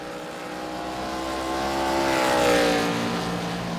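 A race car engine in a sim racing game at Sonoma drones steadily, its pitch climbing and swelling to a peak before easing slightly, with no talk over it.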